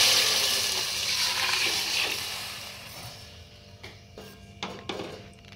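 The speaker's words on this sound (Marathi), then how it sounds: "आता यामध्ये आपण पाणी घालून घ्यायचंय।" Water poured into a hot pan of frying onion and ginger garlic paste for chicken biryani, a strong splashing hiss at first that fades and settles, ending in a few light knocks and clicks.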